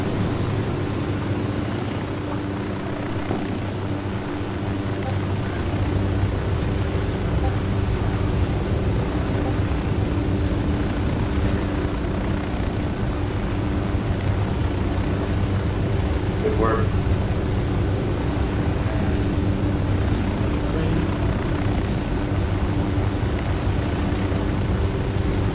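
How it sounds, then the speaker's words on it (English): Helicopter engine spinning up in the video game Ghost Recon Wildlands, a steady low mechanical drone and hum that holds throughout, with voices talking over it. "Helicopter is starting."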